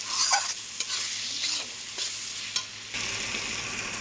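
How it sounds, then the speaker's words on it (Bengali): Chicken pieces are tipped into frying masala and stirred, making close sizzling with scraping strokes of a spoon against the pan. The sizzle swells for a moment near the end. "এবার আমি এর মধ্যে চিকেনটা দিয়ে দেবো।"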